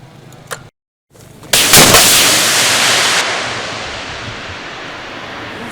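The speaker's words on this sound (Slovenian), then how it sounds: "Pozor, streljam!" A Spike anti-tank guided missile launches after a brief silence, a sudden loud blast followed by a long fading roar of the rocket motor, heard outdoors.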